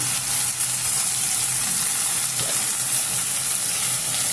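Onion and tomato paste stirred into hot oil in a pan for a Bengali bata fish curry, a loud continuous hissing sizzle throughout with no talking.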